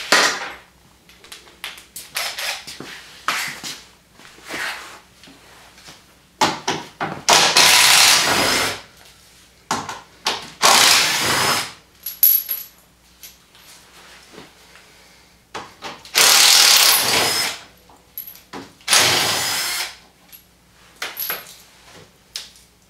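Hand tools clank and scrape while the skid plate is taken off an Arctic Cat Wildcat Sport side-by-side, a series of irregular close knocks, rattles and metallic jingles separated by quiet gaps.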